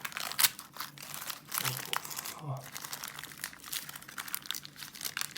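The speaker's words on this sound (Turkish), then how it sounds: "Şu yağlı kağıdımızı güzelce açalım." Parchment baking paper crinkles and crumples as it is unfolded from a San Sebastian cheesecake, a close, irregular rustling that runs throughout with brief louder crackles, while a voice speaks over it.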